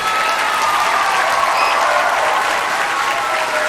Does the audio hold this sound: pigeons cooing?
no